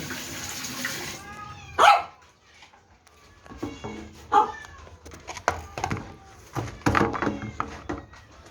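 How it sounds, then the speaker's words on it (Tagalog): Water splashing from a running tap, with cats meowing and thumping noises breaking in repeatedly over the flow. "Patayin ko muna yan guys yung tubig"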